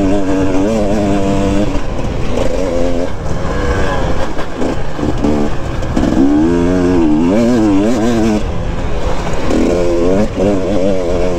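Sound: KTM 250 EXC dirt bike engine revving on hill climb

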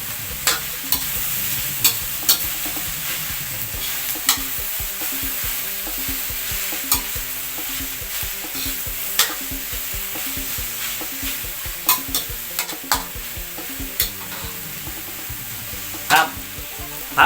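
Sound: stir-frying mixed vegetables in a pan

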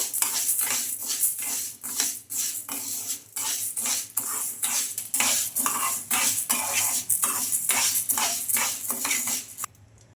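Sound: green gram roasting and being stirred in a kadai

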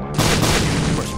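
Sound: bomb explosion in the video game The Binding of Isaac

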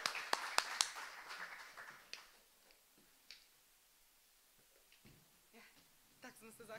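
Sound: hands clapping

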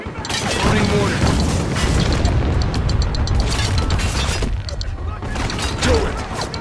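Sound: mortar firing and explosion in Spec Ops The Line video game

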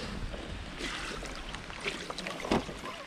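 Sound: heavy rain coming down

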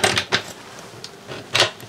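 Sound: cutlery drawer opening in motorhome kitchen

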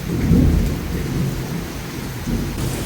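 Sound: heavy rain with thunder

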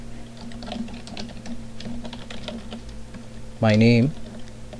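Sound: typing on a computer keyboard

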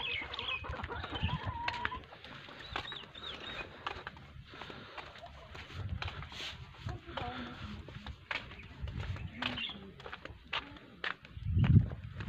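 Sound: chickens clucking after being let out

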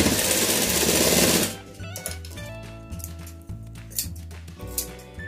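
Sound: sewing machine stitching a cloth baby cap

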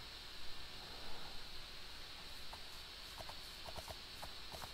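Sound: horse hooves clip-clop in Minecraft video game

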